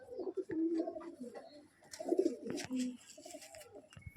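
A large Western male pigeon of a fancy breed coos close by in a few soft, low throaty phrases with short pauses between them, quiet and fairly clear.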